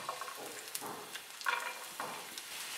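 Garlic and onion frying lightly in oil in a pan, a faint, soft sizzle with a few scattered crackles and light stirring scrapes.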